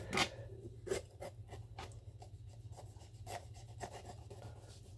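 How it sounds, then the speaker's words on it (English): A knife cuts down the sides of a pepper on a chopping board for chilli con carne, making quiet scraping and slicing strokes with sharper taps between them, close and faint, with no talking. "Now for your pepper, what I like to do is cut it down the sides."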